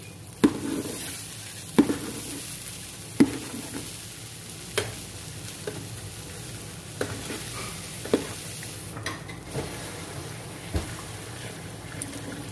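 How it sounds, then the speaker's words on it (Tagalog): Rice frying in a pan for Arabian-style meat mandi, a steady soft sizzle with repeated scraping clicks of a spoon stirring the grains at irregular intervals. "Itang bigas ay isasangag natin."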